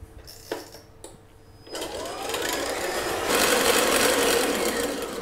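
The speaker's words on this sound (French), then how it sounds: "Et nous allons les monter en neige." A stand mixer whips egg whites into stiff peaks in its bowl, starting with a few clicks and then building into a steady, loud mechanical whir with a rising hiss that holds close and continuous.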